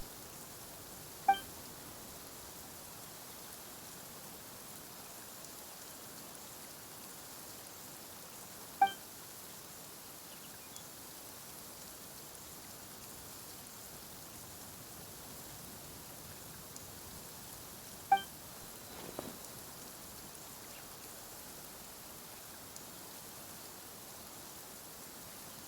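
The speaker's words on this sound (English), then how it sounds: "Why is it raining all of a sudden?" Steady, soft rain hiss in the video game Genshin Impact continues throughout, with a few brief chiming beeps rising out of it at widely spaced intervals.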